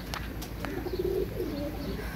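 Pigeons coo softly in a low, rolling murmur beneath a steady, faintly noisy background, with a few brief chirps mixed in.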